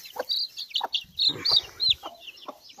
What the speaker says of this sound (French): J'ai des poules.